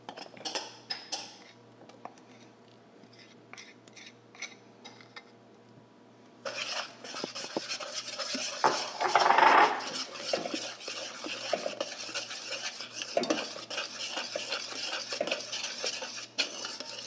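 A utensil stirs melted chocolate into an egg and sugar mixture in a bowl, with soft scraping and clinking of cutlery against the dish, a brief quiet start, then steadier, louder stirring.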